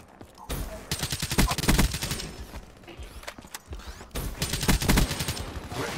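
Black Ops 3 gun game multiplayer firefight on the Combine map, with loud bursts of automatic gunfire coming in two heavy clusters separated by a quieter stretch of scattered shots.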